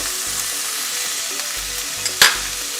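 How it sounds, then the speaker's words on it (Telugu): Mushrooms with capsicum, turmeric, salt and spices roast in a pan with a loud continuous sizzle, broken by occasional scraping stirs and one sharper clink near the end. "అన్నీ వేసుకొని బాగా రోస్ట్ చేసుకుంటున్నాం."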